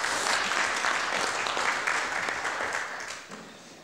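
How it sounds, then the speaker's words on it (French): A room of attendees at a community council meeting applauds, a steady wash of clapping that holds evenly and then thins out toward the end, moderately loud and heard alone. "on peut les applaudir, je pense."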